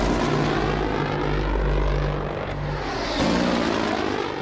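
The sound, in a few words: Little Bird helicopters arriving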